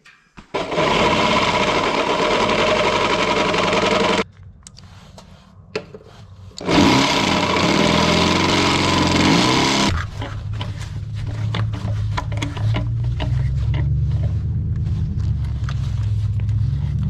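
An antique jaw crusher runs with a loud, harsh grinding roar in long bursts, dropping to a lower rumble with clattering knocks between them, close and without talk.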